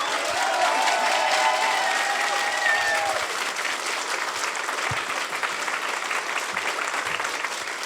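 Applause at a closing ceremony: a large crowd claps steadily and loudly for several seconds, with a few whistles and cheers rising over the dense clapping early on.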